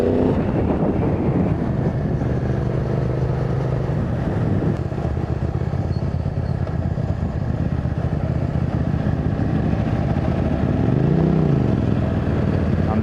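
A motorcycle fitted with a Yoshimura C3 carbon slip-on exhaust rides along with a constant low engine drone, wind rushing past and a brief rising-and-falling tone near the end.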